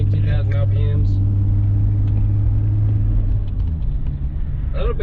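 A 2004 GMC Envoy with a 4.2L engine and FlowMaster Flow FX exhaust, heard from inside while driving: a steady low engine and road drone with a deep exhaust rumble, and a person talking over it at the start and the end.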